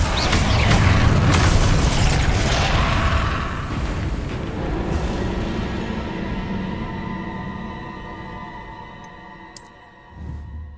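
Confringo fire spell explosion in Hogwarts Legacy, a loud booming blast with a rolling, roaring tail that slowly fades over several seconds, followed by a brief faint game sound.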